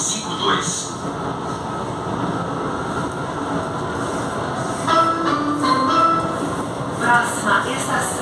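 A São Paulo metro train, set G18, runs between Guilhermina-Esperança and Vila Matilde stations. A continuous rumbling hum fills the car at moderate level, with faint rail clicks and squeals rising near the end.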